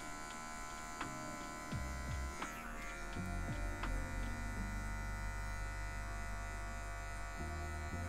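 Electric hair clipper buzzing steadily through a mid fade haircut, its corner edge used at a high zero setting to blend out lines; a continuous close motor drone with brief shifts in pitch, no talking.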